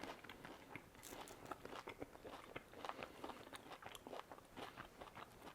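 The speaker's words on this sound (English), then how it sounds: "it's a crunchy bread. Let me try." Crunchy bread topped with olive tapenade is bitten and chewed close up, a run of quick crisp crunches and crackles at a faint level with no talking.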